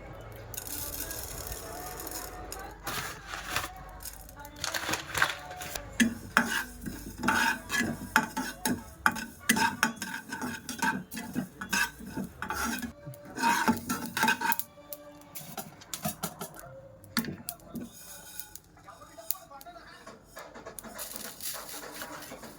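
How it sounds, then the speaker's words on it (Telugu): Cumin, mustard seeds and coriander seeds are dry-roasted in a pan for a drumstick-leaf spice powder, heard as repeated scraping and clattering of a spoon against metal with soft crackle, uneven and close, under intermittent background sounds. "ఇప్పుడు మళ్ళీ జీలకర్ర, ఆవాలు, ధనియాలు వేయించుకొని పక్కకు పెట్టేసుకుందాం."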